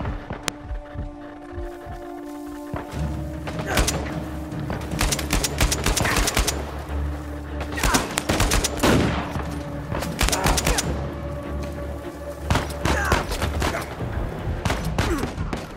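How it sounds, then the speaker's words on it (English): Enemies fire on the player in the action game Uncharted 4, producing repeated bursts of automatic gunfire and scattered single shots in irregular clusters over a low rumbling game soundscape. "Where am I getting shot from?"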